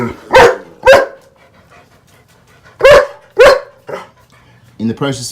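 A dog barks loudly and close by in sharp pairs, pausing between bursts, with a quieter yip at the end.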